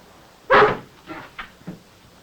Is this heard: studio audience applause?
no